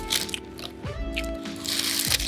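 Crunchy local pastry in Normandy bitten into, giving a few crisp crunching bites and crackles close up amid quiet room noise.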